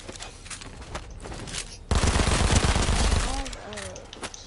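Rapid automatic gunfire in Fortnite, a loud burst of dense shots erupting midway after quieter scattered firing, with a player talking over the action.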